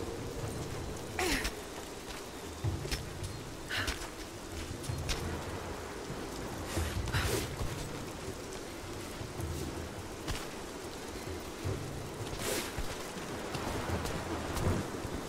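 Steady rain pouring in Rise of the Tomb Raider, a constant hiss of falling water and drops on surfaces, broken by several rumbling thunder claps and crackles spread across the stretch.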